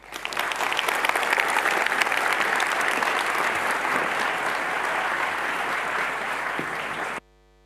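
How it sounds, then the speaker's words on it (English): A crowd at a public talk on just peace in The Hague breaks into loud, sustained applause that keeps a full, even density throughout, then cuts off abruptly at the end. "Please give a warm applause and a lot of love"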